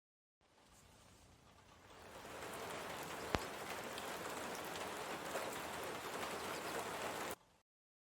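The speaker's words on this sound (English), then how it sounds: "Rain." Steady rainfall pattering on a surface, building from a lighter patter to a fuller, continuous hiss of drops with one sharp click partway through.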